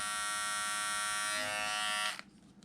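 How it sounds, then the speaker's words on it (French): Philips MG7770 multigroom trimmer fitted with a small precision comb, running close with a steady, bright electric buzz that cuts off after about two seconds. "Et ça, c'est le son qu'il fait avec le tout petit. Ça, c'est un sabot de précision. Là, il est un peu plus bruyant."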